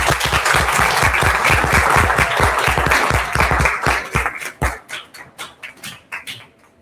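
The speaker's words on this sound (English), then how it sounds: "Please welcome everyone with a huge round of applause." Loud, dense applause from a conference audience as dignitaries take their seats on the dais, sustained for several seconds before thinning into scattered claps and fading out.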